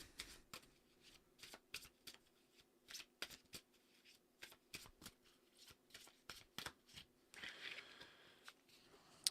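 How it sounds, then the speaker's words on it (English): A deck of cards is shuffled by hand in repeated quick riffles and soft flicks. Irregular bursts of crisp, papery clicks come close and quiet, with no talking. "Shuffle, shuffle."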